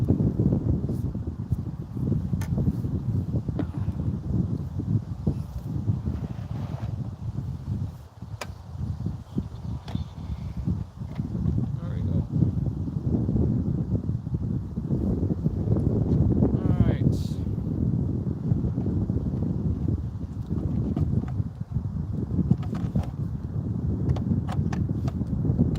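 Strong wind buffets the microphone in a constant low rumble, gusting unevenly throughout, with a few faint clicks and knocks.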